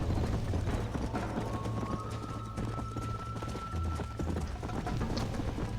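Horse hooves in Red Dead Redemption make a steady, fast clip-clop gallop, close and continuous, with a low rumble underneath and a brief tonal whine partway through.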